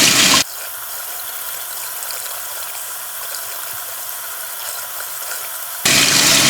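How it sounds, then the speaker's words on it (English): Warm water pours steadily from a shower line into an inflatable hot tub, a constant close rushing flow that stops briefly and then comes back louder, with no voices. "Let's see if I got any more shower water that's warm."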